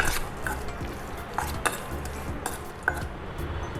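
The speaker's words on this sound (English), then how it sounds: "So add salt as per taste and give it a good mix." Chicken pieces are mixed with salt in a bowl, a soft wet stirring under scattered metallic clinks of a spoon against the bowl, close and moderately quiet.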